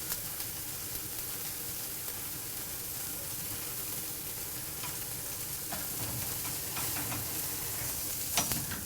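Massive ribeye steaks searing over the fire on a Santa Maria grill, a continuous loud sizzle with crackles and pops scattered through it, a sharper burst near the end.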